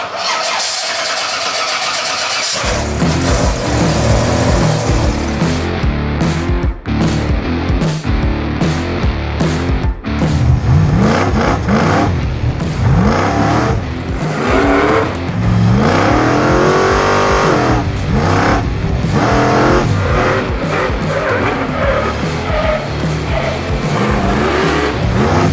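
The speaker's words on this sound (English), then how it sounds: "So it's a V8, like space frame V8, yep, rear wheel drive." A rear-wheel-drive space-frame V8 drift car at a BDC Pro event revs hard and drives, its loud engine roaring and fluctuating continuously for the whole stretch with no voices.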